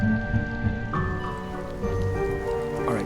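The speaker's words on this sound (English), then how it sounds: "You're going to kick me out in the rain?" Steady rain falls in the Nancy Drew Midnight in Salem video game, a continuous, fairly loud patter and hiss on surfaces with faint tonal game ambience beneath, with no voices.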